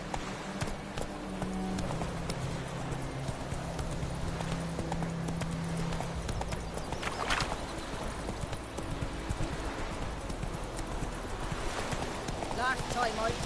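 The horse Roach trots in the video game The Witcher 3, a steady rhythmic clip-clop of hooves throughout, with background game audio and a voice speaking briefly over it.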